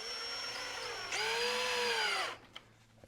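A power drill drives screws into deck boards on a Fuso FG overlander side deck build, a steady high motor whine that rises in pitch and volume partway, then winds down and stops, followed by a light knock.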